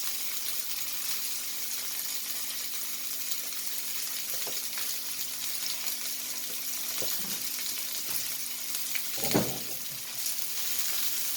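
Mackerel pan-frying in oil, stirred over with a utensil: a constant close sizzle and crackle, with a few scraping knocks and one louder clatter partway through, no talking.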